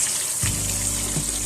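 Water being poured into a pot of boiled beef, a steady close gushing pour that starts abruptly and continues for about a second.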